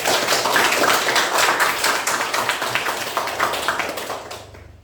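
Audience applause in a classroom setting, a short burst of many hands clapping close and loud, fading out after about four seconds.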